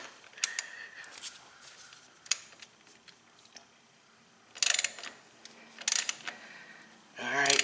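A wrench works on the drain plug of a Hydro Gear ZT 3100 transaxle, giving scattered ratcheting clicks and metallic ticks close by, with a few louder scraping bursts near the end over a quiet background.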